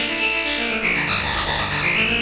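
DSI Prophet Rev 2 synthesizer tone with oscillator 1 pitch modulated by LFO2: a sustained, warbling, distorted pad whose pitch wobbles and sweeps, rich and buzzy, playing alone with no talking.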